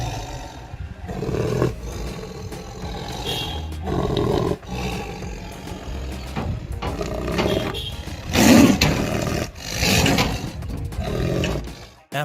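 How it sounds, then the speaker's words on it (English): Rare Amur tiger roaring repeatedly in a protected wilderness area, deep rumbling bursts at close range separated by short pauses, one louder roar near the end. "this rare Amur tiger was safely relocated, and now he roams freely in a protected wilderness area"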